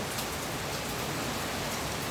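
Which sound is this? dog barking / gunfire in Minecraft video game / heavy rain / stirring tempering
heavy rain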